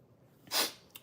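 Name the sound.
sneeze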